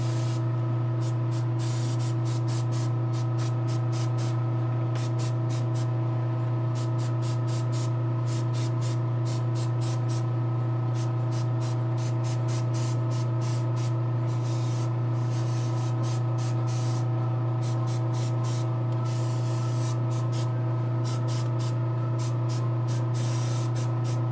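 Vermilion paint sprayed onto a Giganta figure, a continuous airy hiss with faint rapid pulsing over a steady low compressor hum, close and unbroken throughout.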